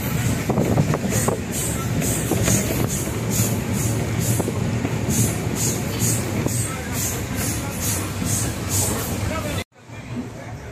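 A passenger train pulling into Mathura station in Uttar Pradesh, heard from on board: a loud, steady rumble with rhythmic wheel clatter and rail noise throughout, cutting off abruptly near the end, with some voices in the background.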